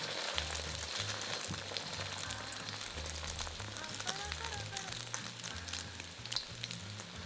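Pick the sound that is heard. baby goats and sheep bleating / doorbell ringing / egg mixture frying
egg mixture frying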